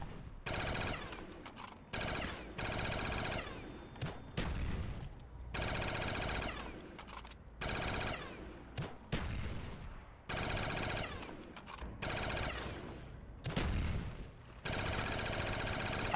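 Video game gunfire in long, sustained automatic bursts broken by short silences, loud and harsh, repeating in a stop-start rhythm for the whole stretch.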